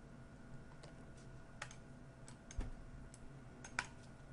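Faint, sparse clicks from keys on a computer keyboard, a few scattered taps and short runs at a steady low level against quiet room tone.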